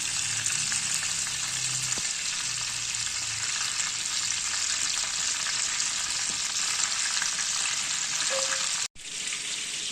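Chicken pieces fry on a tawa over high heat, giving a loud, steady crackling sizzle that carries on without a break, with faint stirring and a brief dropout near the end.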